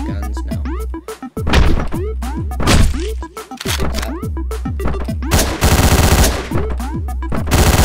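Video game gunfire from Hotline Miami, loud bursts of shots and sharp impact thwacks arriving in irregular clusters, with a dense rapid volley near the end, all over a steady game music bed.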